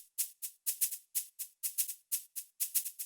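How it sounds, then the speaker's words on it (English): A shaker in a Viking-style house track plays alone in a steady rhythmic loop, with crisp bright shakes arriving roughly every quarter second in occasional doubled pairs, clean and moderately loud. "And I also use a shaker."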